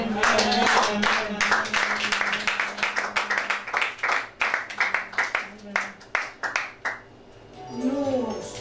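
A church congregation claps and cheers for the Lord, a steady run of hand claps that thins into scattered, slower claps near the end, with voices and music underneath.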